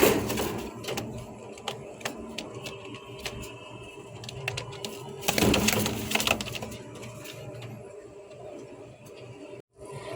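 White beauty homer pigeons, a breeding pair, coo amid continuous loft clatter, scratching and rustling, with dense background noise throughout and a brief drop near the end.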